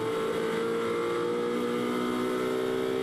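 Onboard engine of a Ferrari 458 race car lapping Silverstone in a GT race, a loud, close, sustained high-revving drone with steady harmonic whine throughout and no voices.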